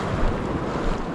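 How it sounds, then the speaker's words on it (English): Big swell sets crash across a coastal point, a loud close roar of surf mixed with heavy wind buffeting on the microphone. "Massive sets crashing across the point."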